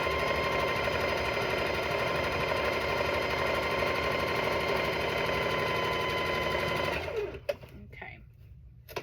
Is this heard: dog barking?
no